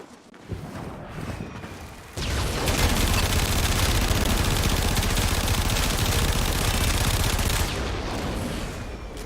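Braton Prime rifle in Warframe firing in a sustained automatic burst at a level 155 Corrupted Bombard, a dense, loud stream of rapid shots running for several seconds after a few sparse opening sounds, with no talk over it.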